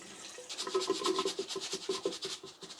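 Rice being rinsed and shaken in water, a rapid rhythmic swishing and sloshing in bursts at close range, with no voices.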